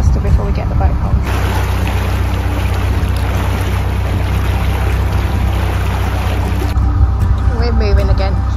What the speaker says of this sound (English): Shallow, so we're trying with a bow thruster before we get the boat on.